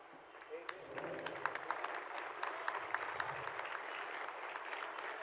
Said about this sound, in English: Okay, participants, just clap.